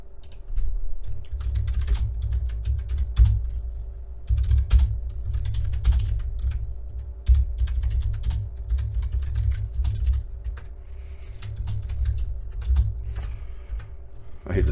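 Keys clatter in an irregular stream of fast, close taps on a computer keyboard, continuing throughout over a low steady hum.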